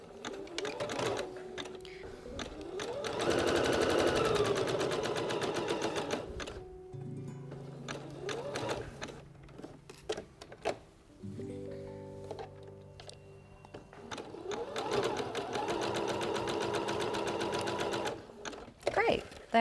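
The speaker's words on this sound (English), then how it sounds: "So we're just going to stitch around that triangle so it's all really nice and secure." A sewing machine running a zigzag stitch around a small triangle on a bra, in several stop-start bursts of stitching with pauses and soft handling thunks, a voice talking between and over the runs.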